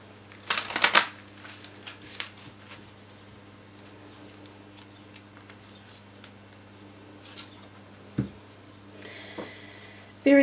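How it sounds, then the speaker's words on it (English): Tarot cards are shuffled in a quick, close riffling burst near the start, followed by a long stretch of quiet room hum with only faint ticks and small handling noises. "one more shuffle after this"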